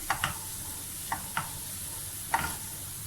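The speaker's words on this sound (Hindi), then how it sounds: "और साथ ही हमने हल्दी डाल दी, लाल मिर्च भी डाल दी, नमक, और इसको थोड़ा सा भून लेंगे" Turmeric, red chili and salt roasting in a pan for a chicken samosa filling, a quiet steady sizzle broken by a few light clicks and scrapes from stirring.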